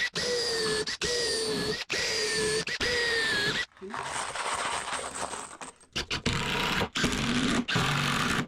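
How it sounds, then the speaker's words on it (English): A drill fitted with a pilot-hole countersink bit bores a pilot hole during a boat cabinet build, running in repeated loud bursts of whining motor noise with short pauses between, then a rougher grinding stretch. "So that's drilling the pilot hole, and that's creating the reset chamber area."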